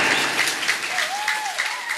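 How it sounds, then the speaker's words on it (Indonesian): An audience at an Islamic boarding school gathering in Sukabumi claps loudly and steadily in dense applause, with a voice faintly audible underneath. "tepuk tangan untuk orang Ciandam."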